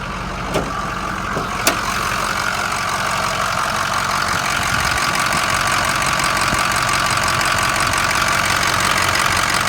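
A Ford car engine with about 100,000 miles idling with the hood open, a steady close rumble with a light ticking knock and two brief clicks near the start.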